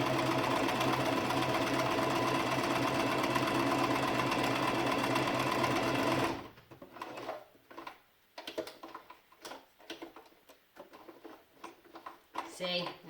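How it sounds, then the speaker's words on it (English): A sewing machine stitching fabric masks runs with a steady, dense mechanical whirr for about six seconds, then stops abruptly, leaving scattered clicks, small knocks and quiet handling noises. "Never a good sign when your machine wants to be a little Glitchy. whirly."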